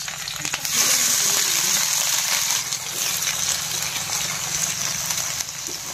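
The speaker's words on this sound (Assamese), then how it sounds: "তেল পূৰা গৰম হৈ গৈছে ধোঁৱা ওলাই আছে আমি পিঁয়াজ দি দিম" Onions fry in smoking-hot oil for a pork intestine curry, giving a loud, continuous hiss and sizzle that swells after the first second and holds steady, close by.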